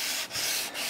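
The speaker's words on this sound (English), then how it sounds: "I'm letting the weight of the sanding block do the work." A 220-grit sanding block rubs by hand across a wood finish, two quick back-and-forth strokes with a brief pause between them, close and clear with no voices.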